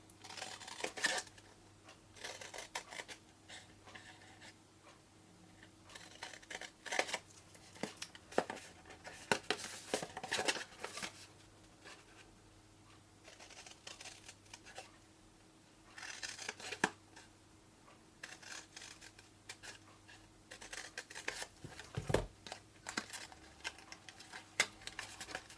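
Scissors snip and notch cardstock while a tag topper box is assembled, giving repeated quiet crisp cuts and paper rustles in irregular bursts close up, with no talk.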